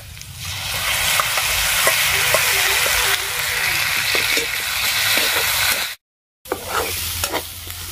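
Potatoes frying in a pan for a village-style vegetable dish, loud steady sizzling with stirring clatter and scrapes, cutting out briefly near the end before resuming.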